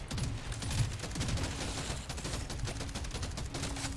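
Dense, continuous gunfire from the Deep Rock Galactic: Survivor video game, a rapid barrage of overlapping shots with explosions blended throughout, loud and sustained for the full four seconds with no talking.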